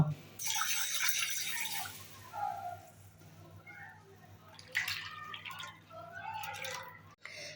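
Water splashes and sloshes as mung beans are swished around in a bowl to wash them, with soft drips and trickles in irregular bursts.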